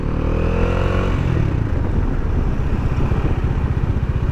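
A motorcycle rides at high speed, its engine roaring loud and close with a steady drone mixed with rushing wind. The pitch dips slightly partway through.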